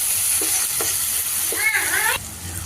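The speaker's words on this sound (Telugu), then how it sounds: "ఇప్పుడు మొత్తంగా ఒకసారి కలుపుకోవాలండి." A spoon stirs onions frying in oil with turmeric and ginger garlic paste for a hotel-style chicken gravy curry: steady loud sizzling, close, with a few scraping strokes of the spoon against the pan.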